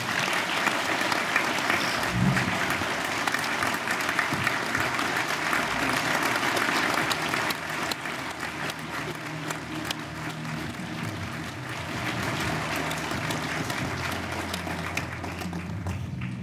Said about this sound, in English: We will give her another round of applause.